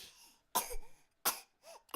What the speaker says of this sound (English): You're coughing on camera.